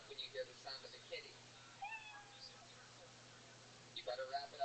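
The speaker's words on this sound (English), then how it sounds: "You know 60 seconds is up when you hear the sound of a kitty." A kitty meow sound effect marks the end of a 60-second performance slot, with several short, high meows scattered over faint background chatter, some clustered at the end.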